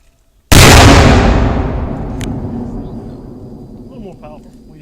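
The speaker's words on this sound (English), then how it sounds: "All right, dynamite." Dynamite blast: a single sharp, very loud explosion hits suddenly after a moment of quiet, then rumbles and decays slowly over several seconds, with a voice faintly heard at the tail.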